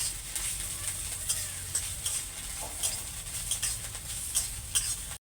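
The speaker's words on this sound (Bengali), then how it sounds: "প্রথমে একটু হালকা করে আমি কিশমিশটাকে ভেজে নিচ্ছি" Raisins fry lightly in ghee in a pan with a steady, hissing sizzle, punctuated by small clicks and scrapes as they are stirred, close up with no talking.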